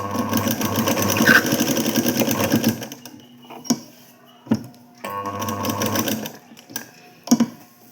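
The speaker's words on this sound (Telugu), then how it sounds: "మిషన్ పైననే కాజల్ రెడీ చేసుకుందాం." A sewing machine stitching buttonholes in fabric: two bursts of rapid, steady mechanical whirring separated by a pause with a few clicks and knocks from handling the machine.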